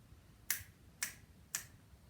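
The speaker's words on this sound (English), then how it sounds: "we put our thumb and middle finger together and they slide our finger off so it hits our hand" Three crisp finger snaps, made by sliding the middle finger off the thumb into the palm, land at an even, steady pace, each a sharp, close, bright crack with low room noise between them.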